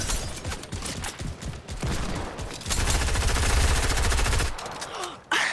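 Heavy assault rifle fire in Fortnite, rapid loud bursts of shots, first choppy and broken, then a long sustained stream of rhythmic rounds before a pause and a final burst.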